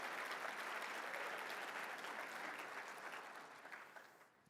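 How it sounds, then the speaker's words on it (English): Applause fills a conference hall: a dense, steady wash of many hands clapping at a distance, quite faint overall, holding level before thinning out near the end. "Big round of applause, please."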